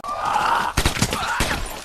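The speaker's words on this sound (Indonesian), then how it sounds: "karena suara tembakan itu" Gunfire in a zombie film, after a hum of aircraft or background tone: two sharp bursts of rapid shots, close and loud, the second trailing into a short rattling tail.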